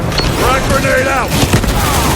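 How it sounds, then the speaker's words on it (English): A frag grenade blast and battle noise from Warhammer 40k Space Marine 2, loud and busy, with voices speaking over the combat. "Frag grenade out."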